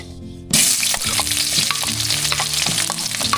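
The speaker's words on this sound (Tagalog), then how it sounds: "Nagsalang na po tayo dyan ng kawali na may mantika. Lagay na po natin yung ating bawang sibuyas tsaka luya." Garlic, onion and ginger hit hot oil in a pan with a sudden loud burst of sizzling after a brief quiet moment, then a dense, sustained crackle with stirring scrapes underneath.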